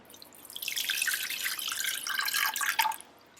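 About a cup of water streams steadily into a pot for about three seconds, a bright splashing flow that stops abruptly near the end.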